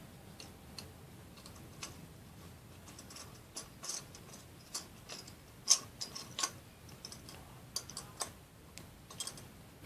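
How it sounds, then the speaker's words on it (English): Small irregular clicks and ticks come from a screwdriver turning screws on a DIY solar lamp, quiet and close, in scattered bursts against a soft background hiss. "There we go. My screwdriver."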